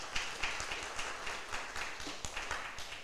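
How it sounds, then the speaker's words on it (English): A small audience claps steadily at a university media showcase awards ceremony, moderate and even with individual claps audible throughout. "Let's give Megan a round of applause."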